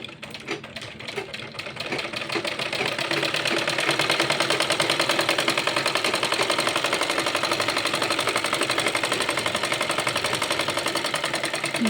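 A sewing machine stitching a child's kurta runs steadily with a fast, even mechanical rattle, starting faint and quickly settling into a loud continuous whir with no talking.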